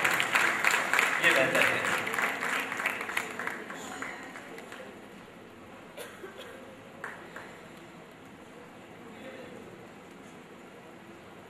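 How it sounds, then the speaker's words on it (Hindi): Audience applause at a Shravan festival in the Mahakaleshwar temple in Ujjain, as artists are honoured. Loud crowd clapping opens, then thins and fades over several seconds while someone speaks over it. "तालियों का क्रम जारी रखें जी"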